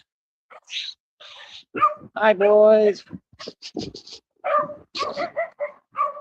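Puppies bark and yip in short high bursts with a whimper mixed in, close by, while a person speaks to them and between the barks.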